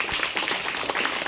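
Crowd clapping dense and steady throughout, welcoming a first-prize winner at a school class 1–5 final result and gift ceremony.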